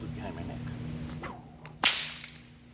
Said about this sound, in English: All of those are using the exact same cattleman's crack.